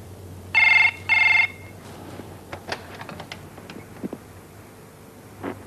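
An old telephone bell rings in two brisk bursts right after dialing one's own number, close and loud, followed by scattered small clicks and knocks of the handset in a quiet room.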